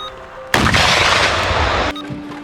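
A single loud gunshot blast cracks out nearby from a Kyiv police rifle regiment position, followed by a sustained rumbling roar that rolls on for over a second before cutting off.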